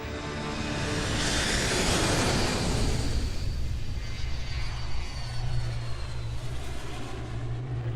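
United Airlines Flight 175, an airliner bound for New York City, roars overhead with a loud broadband engine rush that swells and then settles into a steady low drone, with no voices.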